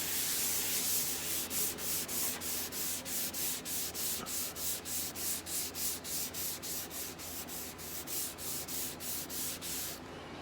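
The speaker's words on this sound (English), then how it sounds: "That's 320 grit just to smooth it out." A car body panel being hand sanded with 320 grit sandpaper, a close, rhythmic back-and-forth rasping of about two strokes per second, steady and alone.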